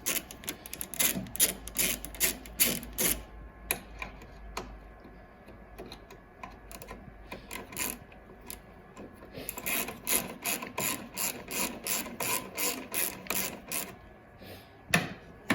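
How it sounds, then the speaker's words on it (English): A ratchet loosens 10mm bolts holding the expansion tank on a BMW E90-series 328xi: rapid bursts of close, crisp mechanical clicking, pausing in the middle before another run of clicks and a final tap. "I'm going to undo these 10mm bolts that hold the expansion tank in place"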